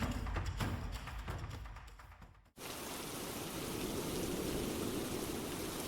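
Steady rain falling in a rural Bengali village setting, first hissing under other activity and then, after a brief dip, settling into a dense, even downpour that continues loudly to the end.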